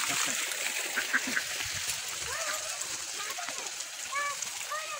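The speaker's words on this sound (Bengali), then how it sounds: "হাঁসগুলো ধর, হাঁসগুলো ধর।" Ducks quack and splash outdoors at a rural home, their calls repeated and fairly close over constant background noise, with voices heard among them.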